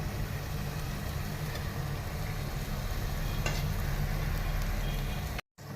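Chicken in a spice paste with a little yogurt sizzles steadily in a pan for a Bengali chicken jhol, a dense continuous hiss with faint stirring scrapes, close and loud, no talk.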